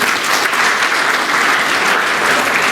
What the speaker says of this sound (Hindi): उनके लिए एक बार जोरदार ताली बजा दीजिए